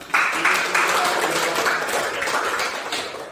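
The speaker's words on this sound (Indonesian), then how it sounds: "Beri aplaus, jangan lupa." Audience applause for school students at a junior high school event, a steady, dense wash of clapping from many hands that holds evenly for several seconds.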